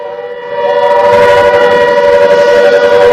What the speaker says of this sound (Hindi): सायरन बजना शुरू हो गया है